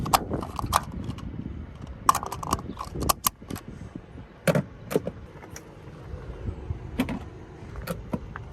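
A series of short mechanical clicks and clunks, some sharp and some soft, spaced irregularly over a low background rumble, as the electric fuel door of a 2021 Jeep Wrangler 4xe Unlimited Rubicon unlocks and slowly opens.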